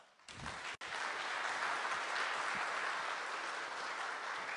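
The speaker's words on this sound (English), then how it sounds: "Can we have another round of applause for Gautam Rege, our keynote speaker, please" Sustained audience applause after a keynote talk at a conference, a dense, steady wash of clapping from a large crowd that begins abruptly and continues evenly at full strength throughout.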